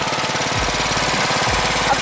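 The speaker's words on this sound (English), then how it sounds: "just pulled the lawnmower out, as you just saw. You can hear it in the background a little bit." A riding lawn mower engine runs steadily close by, a continuous rough mechanical drone with a knocking pulse and two deeper low thumps partway through.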